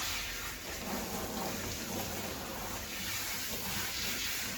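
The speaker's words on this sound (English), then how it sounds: "I'll then give him a rinse." Water spraying to rinse foam off a dog during a bath, a continuous soft hiss of running water, steady and close, with no talking.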